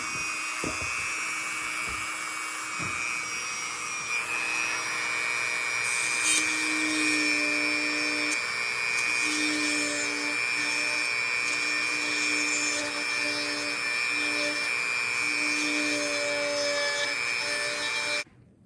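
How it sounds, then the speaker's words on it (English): A Dremel rotary tool carves a Halloween pumpkin, a high steady whine with grinding rub that shifts in pitch as it cuts, running continuously for most of the clip before stopping abruptly. "With that Dremel tool, it'll kind of pull it out."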